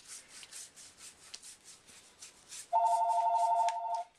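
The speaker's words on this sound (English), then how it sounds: "And that's my phone." A mobile phone rings in a rapid trilling pattern, starting partway through and continuing about a second and a half, over a steady rhythmic rubbing of a brush smoothing paper on a clipboard, with no talking.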